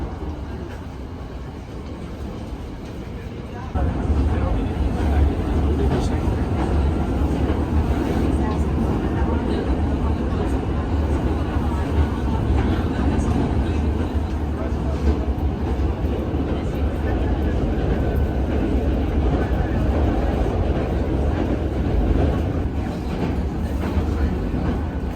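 A Hankyu train runs toward Juso, its steady, loud rumble and rattle of wheels on rails starting abruptly after a quieter moment and continuing without a break.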